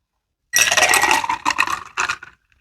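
Spiked strawberry homemade lemonade is poured into a glass, a close, bright splashing pour with clinking, breaking into two short bursts before trailing off into silence.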